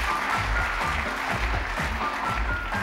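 An audience claps at a German TV jubilee show, loud and continuous, with a rhythmic beat running under the applause.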